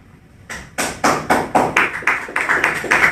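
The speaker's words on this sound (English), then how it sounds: "So only one guy is clapping" A single person claps in an audience, about ten sharp, evenly spaced claps ringing out alone and close.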